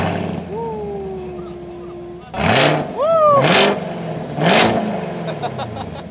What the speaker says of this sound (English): You want to hear a Zobar car? Ta'al, go to the exhaust